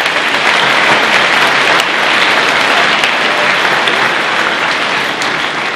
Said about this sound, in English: So can we please give them a massive round of applause?